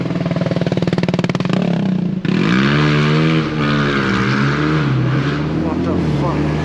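Motorbike on a London street in Camden Town, its engine roaring loudly nearby then surging and falling in pitch as it passes, with a voice exclaiming over it.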